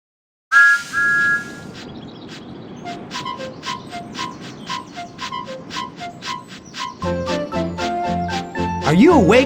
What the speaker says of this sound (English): pull Thomas's whistle.